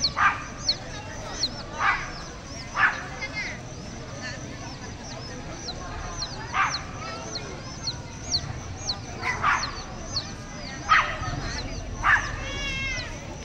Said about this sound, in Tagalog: Ayun o, tumatahol o.